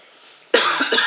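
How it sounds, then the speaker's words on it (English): After a brief quiet hiss, a single loud cough erupts close by, rough and breathy, with a short second burst at the end. "Oh, excuse me with this cough."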